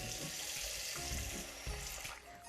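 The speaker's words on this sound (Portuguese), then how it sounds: "vou botar um pouquinho de água aqui." Water poured from a tap into a bowl holding ice, a close, steady splashing and trickling stream lasting a couple of seconds in a home kitchen.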